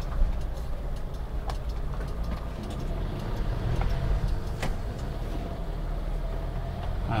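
A manual car creeps slowly into a garage in first gear with the clutch half engaged, giving a steady low engine rumble and road noise throughout, with a few faint clicks and knocks and no talking.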